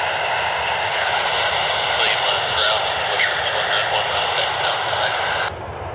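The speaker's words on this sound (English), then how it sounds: "The United Express E175 out of Chicago." United Express Embraer E175 jet arriving from Chicago at Cleveland Hopkins airport, a steady roaring engine wash with a radio-like tone that stays loud and then drops off abruptly near the end.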